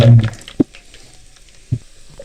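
Whole spices, cinnamon stick, star anise, black peppercorns and cloves, frying in hot ghee or oil: a burst of sizzle at first, then two sharp pops and a quieter crackle between them.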